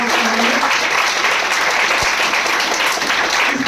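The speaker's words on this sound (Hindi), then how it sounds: "एक बार ताली बजाओ।" A large crowd at a business seminar for a direct-selling company claps steadily and loudly, dense continuous applause filling the room with no one speaking over it.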